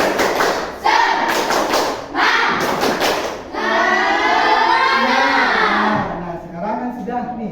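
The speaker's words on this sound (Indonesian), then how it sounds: "kita tepuk semangat dulu ya" Pupils in an Islamic primary school classroom beat out a patterned spirit clap in short bursts of crisp group claps, then young voices shout and chant in unison.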